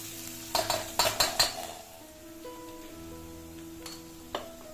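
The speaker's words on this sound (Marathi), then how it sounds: "एक मोठो बारीक कांदो कापून घालायचो आणि तो मग गुलाबी रंगावर परतून घ्यायचो" Finely chopped onion is stirred in a pan for Malvani chickpea amti, with a few loud metal clanks of spoon on pan up front, then quieter scraping over a faint background hum.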